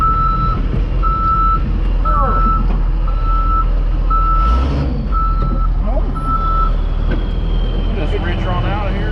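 Backup beeps of a RAM 3500 Cummins truck reversing, an evenly spaced series of loud steady tones over a heavy diesel engine rumble, with people talking over it.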